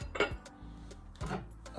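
Metal clatter of a cooking pot being set on a stove, two clanking bursts with a lighter clink in between, close and fairly quiet.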